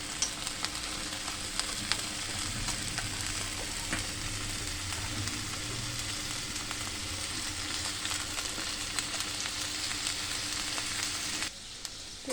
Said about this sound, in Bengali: আমি পনিরের সাথে কয়েক টুকরো আলু একসাথে ভেজে নেব